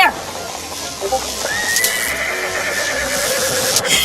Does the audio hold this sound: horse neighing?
yes